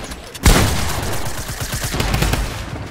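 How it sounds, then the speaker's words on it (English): Drum gun in the Fortnite battle royale game firing a sustained rapid burst, a loud sharp onset followed by nearly three seconds of continuous automatic fire close up. "why do you have a drum gun?"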